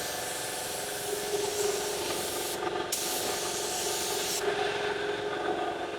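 A spray gun lays a heavy wet coat of automotive paint onto a car panel, giving a steady close hiss of atomised spray that runs unbroken, with brief dips where the trigger eases between passes.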